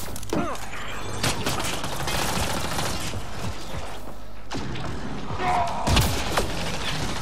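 Combat gunfire in the sci-fi shooter Mass Effect Andromeda, scattered sharp shots and mechanical clanks over a steady rumbling battle background, fairly loud, with a couple of stronger bursts near the start and end.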